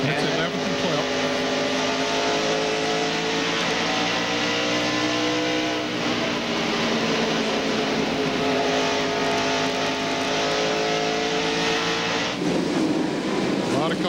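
NASCAR Busch Grand National stock cars race in a pack at Bristol Motor Speedway during the 1996 Food City 250, a loud continuous engine roar with rising and falling pitch that barely dips over fourteen seconds, with faint commentary underneath.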